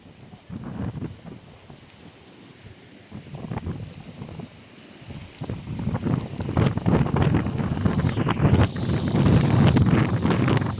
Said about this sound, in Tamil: பாருங்க இஞ்சால பாருங்க காத்துகளை பாருங்க எப்படி இருக்காண்டு